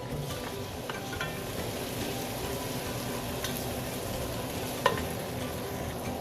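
Garlic and tomato sizzle steadily in a pan, a constant broadband crackle across the whole stretch with a sharp clink near the end, for a salmon-head sinigang.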